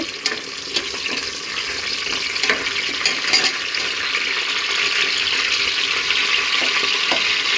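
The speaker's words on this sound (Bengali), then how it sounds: "কয়েকটা তেজপাতা দিয়ে দিয়ে একটু হালকা ভেজে নিচ্ছি" Bay leaves and cardamom fry lightly in hot oil for pulao, a continuous close sizzle with faint scattered crackles and no talk.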